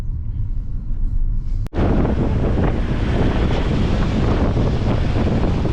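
Strong wind buffets the microphone on a road trip near Mysuru, a loud, continuous roar, with a brief dropout near the start before the rush resumes steadily.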